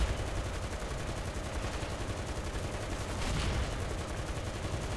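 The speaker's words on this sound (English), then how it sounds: "We're getting knackered by the enemy machine guns." Dense, continuous machine gun fire from enemy guns in the War Thunder tank battle game, a steady rattling barrage with no pauses, loud and unbroken throughout.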